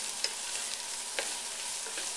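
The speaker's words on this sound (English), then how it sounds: "We're going to mix this up good." Minced garlic being stirred into vegetables in a soup pot for creamy crab and potato soup, with a steady soft sizzle and a few faint scraping strokes of the spoon, no voices.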